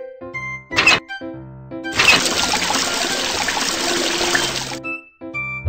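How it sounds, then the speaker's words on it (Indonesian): Water gushes from an opened tap in a children's cartoon, a steady bright rush of running water lasting several seconds, framed by short musical notes before and after. "Buka keran air."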